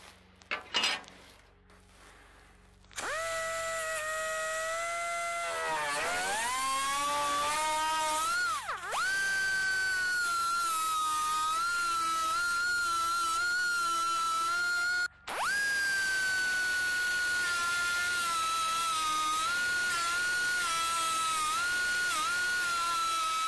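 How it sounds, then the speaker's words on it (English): A small air-powered grinder with a cut-off wheel slices through rusted car body metal near a back window corner: a loud, sustained high-pitched whine close by, briefly dipping as it bites and pausing once, running nearly continuously. "I used my little air grinder death wheel, very fine working tool"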